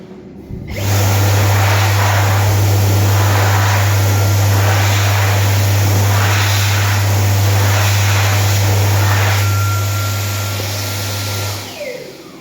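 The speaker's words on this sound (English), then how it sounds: "in the disabled unit, you can see we have another white Dyson V" A white Dyson V hand dryer in the disabled unit of a public toilet runs with a loud, steady high-pitched whine and rushing airflow for about eleven seconds, then winds down and cuts off near the end.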